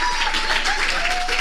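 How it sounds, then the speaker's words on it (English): Dense audience applause at an academic lecture on faith and socio-economic development in Africa, a steady wash of clapping held at one level across the whole stretch, with a faint tone running beneath. "I know no one is going to get the opportunity to give her a round of applause."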